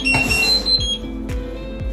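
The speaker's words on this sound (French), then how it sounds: "vous arrêtez le minuteur" Kitchen timer beeping in short, high electronic tones while cooking a salted okok dish in a pot, with a few dull knocks and clatters from nearby handling.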